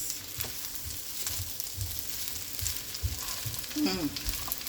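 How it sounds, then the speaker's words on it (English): A spoon breaks up lumps of overnight rice frying with shrimp and chicken in a pan, a steady sizzle with irregular scraping taps and stirring strokes, fairly close, with no talking. "if you have some lumps, you just use a spoon and just break it, because it's overnight rice"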